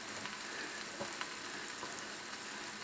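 Breakfast sandwich filling fries on an electric griddle, a steady close sizzle and crackle with faint stirring or scraping and no voices.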